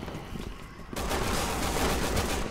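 Video-game gunfire in Resident Evil 6 starts suddenly as a dense, loud, continuous fusillade of rapid automatic shots after a brief quieter stretch, close and sustained to the end.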